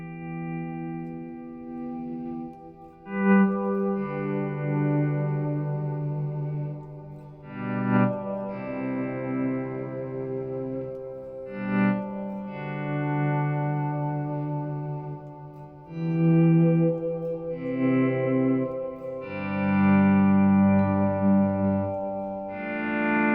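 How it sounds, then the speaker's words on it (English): Electric guitar volume swells through a Blackstar ID:Core High Power 100 amplifier with plate reverb, sustained chords fading in smoothly and ringing out in a slow, repeated pattern with a long reverb tail. "I'm going to do some volume swells for you, just to put you in the picture of what this can really do on the reverb."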